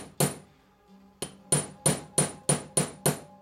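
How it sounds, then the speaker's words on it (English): Sharp hammer strikes on silver wire being shaped into chain links, one blow then a pause followed by a steady series of seven crisp metallic taps, close and clear. "Whichever edge you're hammering is going to stretch."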